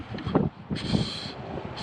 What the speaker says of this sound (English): A little windy, you can hear